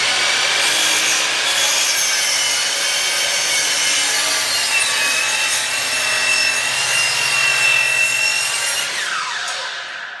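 A hand saw cutting steadily through a piece of wood for a shop bench, with continuous close rasping strokes that fade slightly at the end, no talking.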